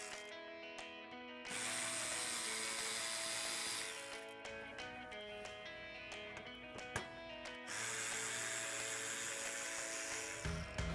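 A 5.5mm socket wrench works the four bottom bumper screws on a 2005-2009 Mustang, giving faint mechanical ratcheting and clicking. Bursts alternate with quieter pauses, and a few sharp ticks stand out.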